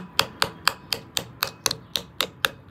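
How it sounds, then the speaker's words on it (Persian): Regular hammer taps from a homemade hammer seating the pulley back onto an evaporative cooler motor, about ten sharp, evenly spaced knocks, close and fairly loud with no talking. "دوباره پولیو میذاری سر جاش با این چکشی که خودمون درست کردیم"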